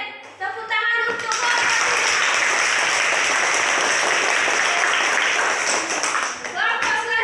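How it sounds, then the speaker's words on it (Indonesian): Applause for a student group in a classroom lesson, a dense burst of many hands clapping that starts abruptly and fills several seconds before tapering, with a voice briefly audible at the start. "Oke, tepuk tangan untuk"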